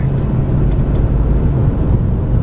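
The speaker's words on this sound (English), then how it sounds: "there's traffic" Steady low rumble of street traffic fills the background, a continuous close drone of passing vehicles with no distinct events standing out.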